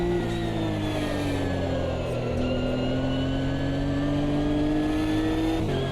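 A Nissan GT3 race car in a racing video game runs at full throttle, a loud, steady, close engine howl whose pitch sags and climbs with speed, alone without talk.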